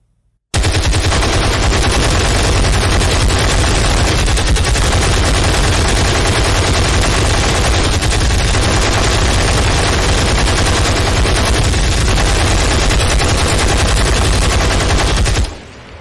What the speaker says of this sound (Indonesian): Oke, kita tembak dulu dengan senjata M4.